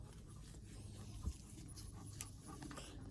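A dog pants quietly beside a freshly poured concrete pad. Soft, rapid breaths come close but faint, with a few small bumps and clicks around them.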